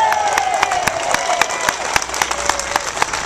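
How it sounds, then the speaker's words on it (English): A rally crowd at a tax day tea party gives a round of applause, a close, lively patter of many hands with sharp individual claps standing out, mixed with some cheering. "Give yourself a big round of applause."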